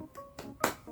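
A teacher demonstrates the 'tepuk semangat' classroom clap with a few sharp, separate claps spaced apart, close and fairly quiet, with no talking.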